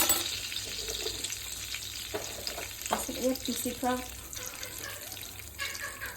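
Spices sizzle loudly in hot oil in a wok, with scraping stirs and crackles; a voice speaks briefly over the frying. Kashmiri chilli is among the spices.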